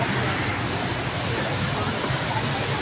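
The Düden waterfall in Antalya pours over a cave entrance, a steady, dense roar of rushing water heard from inside the cave, loud and continuous with no voices.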